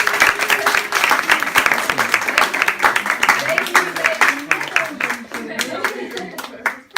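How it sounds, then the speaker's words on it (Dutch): A crowd applauds with dense, irregular clapping at a singing competition final, while a voice talks over part of it. "heel groot applaus voor haar"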